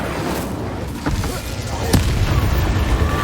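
An Incendio fire spell cast in the Hogwarts Legacy video game, a whooshing burst with a sharp crackling pop, set over continuous rumbling game ambience that swells slightly afterward.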